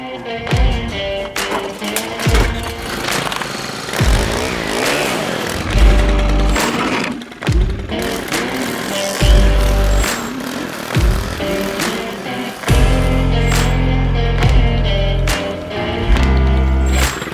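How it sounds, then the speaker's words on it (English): A string trimmer and a lawn mower run together on a lawn care job, loud and close, with the engines revving up and easing off in repeated bursts and a steady low drone underneath. "So I'll do the string trimming. Cole's gonna do the mowing."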